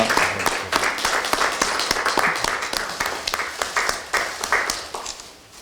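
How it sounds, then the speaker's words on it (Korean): A crowd claps in applause at a political party leadership meeting as committee chairs are introduced, dense and sustained, fading slightly toward the end. "큰 박수 부탁드리겠습니다"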